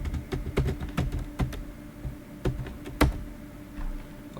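Someone types on a computer keyboard up close, irregular bursts of key clicks with short pauses between, alone and without talk.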